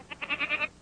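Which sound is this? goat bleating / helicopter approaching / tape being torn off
goat bleating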